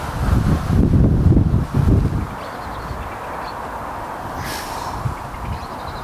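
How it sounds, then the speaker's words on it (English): Strong gusting wind buffets the microphone on a canal bank, loud low rumbling bursts in the first two seconds easing into a steadier, quieter wind roar. "It's actually extremely windy."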